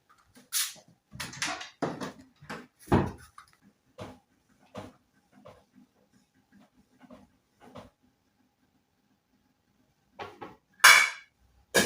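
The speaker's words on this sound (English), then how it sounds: "I'm going to cover and wait for our stew to boil" A metal lid going onto a stew pot: a quick run of clanks and clatters, then scattered lighter knocks and taps, a pause, and a final loud clatter, all close by with no talking.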